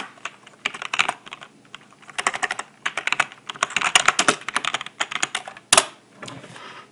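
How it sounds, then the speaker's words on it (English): Fingers tap out an email or username on a computer keyboard, close and crisp, with bursts of rapid keystrokes separated by short pauses and one sharper key strike near the end. "You type in your email or username"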